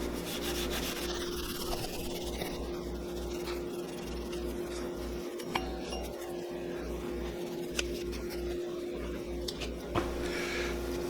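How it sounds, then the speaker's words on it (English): A velvet jeweller's cloth rubbed over a metal mount to polish it, giving a steady soft scrubbing and rasping under a constant low hum, with a few faint clinks. "This is a Velvet cloth. Jewelers use it to polish silver."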